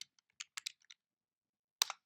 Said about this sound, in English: you can actually just type messages